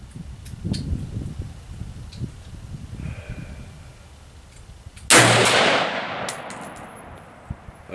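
A single sharp, loud gunshot from a DPMS Oracle AR15 rifle firing Federal XM193F 55 gr 5.56x45mm ammunition at a 100-yard range cracks out after a quiet stretch, then rings off in a long fading tail.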